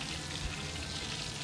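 Chicken cutlets frying in oil give a steady, dense sizzle that fills the whole stretch without a break, close and even in loudness.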